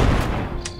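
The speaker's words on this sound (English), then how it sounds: "Shotgun you in the face!" A single shotgun blast in the VR game Bonelab, loud and close with a heavy booming body that decays quickly over under a second.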